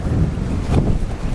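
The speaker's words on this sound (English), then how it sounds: "You gotta love the wind if you live in Oklahoma." Strong wind blows outdoors in Oklahoma beside a beehive, a loud, steady, low rumbling buffet against the microphone that briefly surges partway through.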